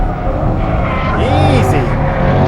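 A 2020 Chevrolet C8 Corvette accelerates hard up a hill, its engine note rising in a loud, close drone with tire noise underneath and a voice talking over it.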